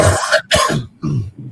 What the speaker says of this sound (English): Are you coughing up anything?